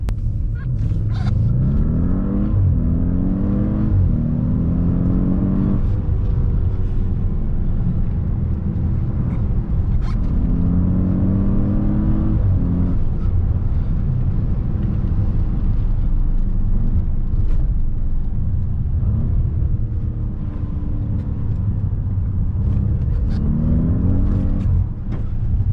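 A 2015 Audi S8 drives and accelerates, its engine rising and falling through repeated gear changes in a loud, continuous interior rumble with tire and road noise underneath.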